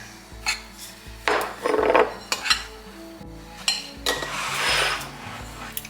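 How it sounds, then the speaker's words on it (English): Homemade taco seasoning with bits of onion is scooped and poured into a small jar, giving scraping, rattling and granular shuffling bursts that are close and moderately loud, with no talking. "we will put our old taco seasoning in here"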